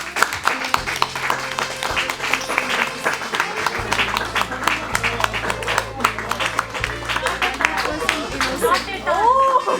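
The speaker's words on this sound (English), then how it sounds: "can you all give a round of applause?" Graduation ceremony audience for a PharmD class applauding steadily for about ten seconds, a dense wash of clapping with crowd chatter mixed in and a low hum beneath.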